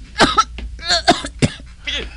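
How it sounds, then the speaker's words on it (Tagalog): A person coughs several times in quick, raspy bursts, near and fairly loud, with short pauses between the coughs. "Sabad sa ngakon ubo"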